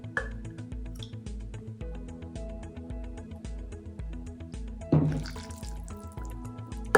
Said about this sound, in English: Next, I'm going to take half a cup of water.